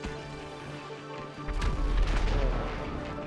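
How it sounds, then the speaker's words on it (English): A missile launched in a multiplayer shooter video game, a sudden loud blast and rumbling roar that swells then slowly fades, following a quieter stretch of game background. "I'm shooting a missile"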